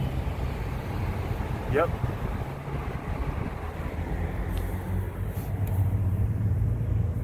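A Schindler 400A elevator in a station parking garage descends its shaft, giving a steady low mechanical rumble that lasts throughout, with a person briefly speaking over it.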